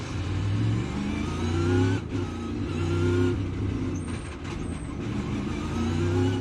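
A race car runs down pit road with a loud, continuous engine drone at steady pitch, rising slightly mid-way, heard close without any talk.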